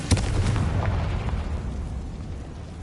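A Confringo blasting spell explosion in a video game: one sharp, loud blast at the start, then a rumbling tail that gradually fades away.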